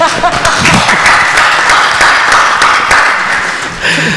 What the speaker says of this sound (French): Franchement, je demande d'applaudir.